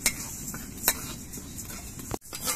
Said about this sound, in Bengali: মুগ ডালটা ভাজার সময় কিন্তু অনবরত নাড়তে হবে, না হলে মুগ ডালটা পুড়ে যেতে পারে।